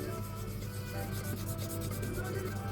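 Steady, continuous rubbing of sandpaper on a hand-stamped cutlery bracelet, a close and even scratchy hiss that carries on without a break.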